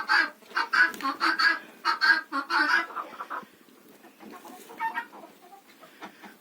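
Hens cluck near their nests in a Ukrainian village henhouse, a burst of loud, close clucking for the first few seconds that fades to softer, scattered calls.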